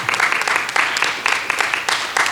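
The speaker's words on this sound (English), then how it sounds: "Can we applaud them?" Brief burst of audience applause at a community candidates' forum, a moderate crowd clapping in uneven waves, fairly close and loud.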